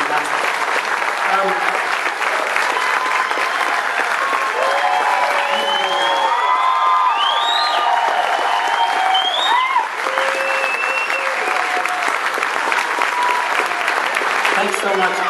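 Dense applause with cheering and whistles fills a concert hall at a Beatlefest show, steady and loud throughout with crowd voices and shouts mixed into the clapping.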